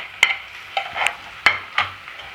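A spoon stirs chopped tomatoes with salt and turmeric in a pan, giving five sharp scraping strokes at an uneven rhythm over a faint low background.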